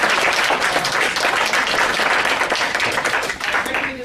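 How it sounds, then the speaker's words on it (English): A conference audience claps for a panel in dense, continuous applause that carries on for several seconds, fairly loud and close. "a round of applause for our panelists"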